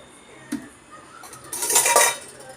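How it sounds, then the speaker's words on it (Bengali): A spoon stirs a sugar and lemon juice mixture in a bowl. There is a brief clink early, then a louder burst of scraping and clattering against the bowl toward the end, with no voices. "চিনি আর লেবুর রসের মিশ্রণটাকে ভালো করে কিন্তু বন্ধুরা মিশিয়ে নিতে হবে"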